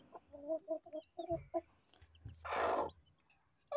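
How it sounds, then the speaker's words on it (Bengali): Young desi and Fayoumi chicks peep and cheep in quick bursts while feeding in a small poultry setup, with a louder clucking flurry after a few seconds, close and fairly quiet, a voice faintly present. "দেখেন এই বাচ্চাগুলো সুন্দরভাবে খাচ্ছে"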